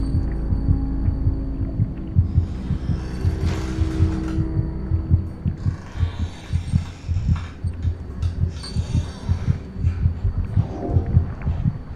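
A heartbeat from the video game Among the Sleep throbs steadily all the way through, with low, loud, evenly spaced thumps and a droning hum beneath them. No one speaks over it.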